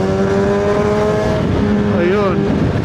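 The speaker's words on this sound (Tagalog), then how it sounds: "nangingibabaw yung tunog ng exhaust" A motorcycle exhaust drones steadily while riding along an expressway, its engine tone holding and shifting in pitch over continuous loud road and wind noise.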